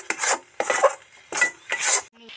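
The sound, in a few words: stirring green pea filling in a pan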